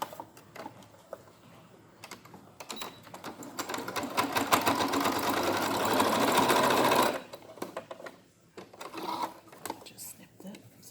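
Electric sewing machine stitching along the two raw edges of a fabric face mask and its binding, a steady whirring run building up and holding for several seconds before stopping, with soft handling noises around it.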